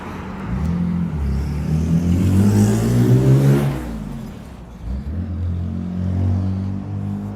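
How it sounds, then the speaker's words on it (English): A car's engine revs and rises in pitch as it drives past close by, the rumbling growl peaking mid-pass and then dropping away, followed by lower steady engine noise. "Look at this car here."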